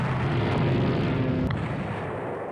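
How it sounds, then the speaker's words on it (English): Heavy rumbling blasts from the naval warfare game Rule the Waves 3 as a torpedo strikes an enemy battleship, a dense continuous boom with a sharp crack partway through, fading slightly toward the end. "Enemy ship BB is hit by a torpedo"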